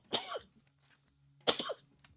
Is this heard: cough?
yes